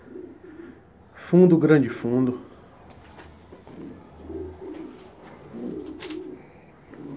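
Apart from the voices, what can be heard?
homing pigeons cooing in a loft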